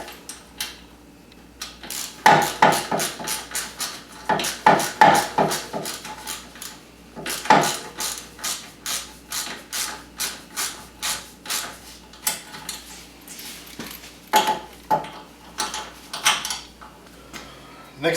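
A ratchet tool with a T25 bit loosens brake line clip bolts on a 2015 Wildcat Sport, producing close, rapid clicking in repeated bursts with brief pauses between strokes.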